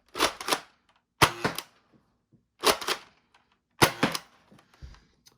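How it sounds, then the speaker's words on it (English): Nerf Hyper Siege 50 blaster slam firing, four sharp mechanical bursts spaced about a second apart, each a quick double or triple clack, loud and close with quiet gaps between. "do some test firing of the hyper. I'll try some slam fire"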